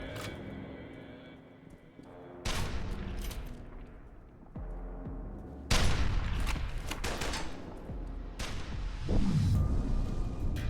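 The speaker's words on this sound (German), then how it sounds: "Und die letzte Stunde ist einfach nur ziemlich sinnloses Herumgeballer." Gunfire in the shooter FEAR 2 crackles in several bursts, loud and close, separated by short lulls filled with rumbling debris and echoing combat noise.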